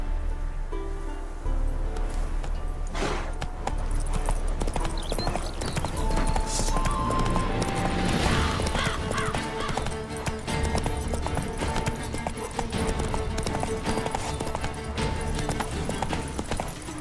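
Roach the horse from The Witcher 3 gallops in a steady, continuous clip-clop of hooves under game music and ambient rustle, with no speech.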